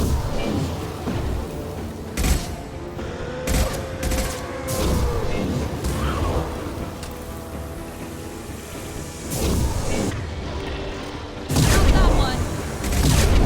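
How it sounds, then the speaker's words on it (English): Combat in Mass Effect 2 on Xbox 360 brings rapid gunfire bursts and heavy booming explosions that come in close repeated volleys, with voices talking between the shots. "Hostile fire. Taking cover."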